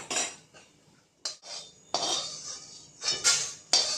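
Cardamom, mace and other spices being dry-roasted in a pan produce several sharp metallic scrapes and clinks of a spoon against the pan, in separate close bursts with short pauses between them.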